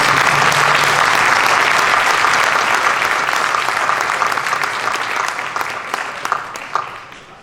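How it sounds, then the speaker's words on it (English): A Board of Education meeting audience claps in a loud, sustained round of applause that holds steady and then tapers off toward the end. "would you please give them another round of applause?"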